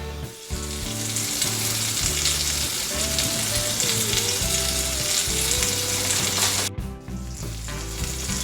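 A Reuben sandwich on unleavened matzo bread sizzles loudly and steadily on a hot griddle, a dense continuous frying crackle with a faint tone wavering underneath and a brief interruption near the end.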